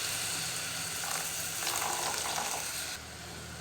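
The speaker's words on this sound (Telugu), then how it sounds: "1/2 కప్పు పాలు యాడ్ చేయండి" Quiet, steady sizzling as half a cup of milk is poured into a hot pan of halwa, a soft frying hiss with a brief swell in the middle before settling.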